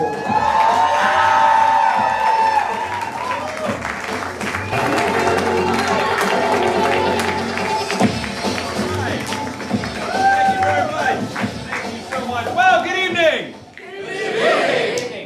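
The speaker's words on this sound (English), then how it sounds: "the crowd goes wild" Improv comedy tournament crowd cheering and clapping loudly, with whoops and applause rising and falling while an announcer's voice and other speech break through and the noise surges again near the end.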